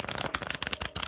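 A deck of cards is shuffled up close, a quick run of crisp riffling flutters and soft snaps lasting about a second.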